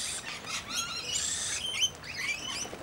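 A baby parrot high in a tree at a bird sanctuary on a rainy day gives thin, high chirping calls in short bursts over a steady patter of rain, at middle distance, with no voices.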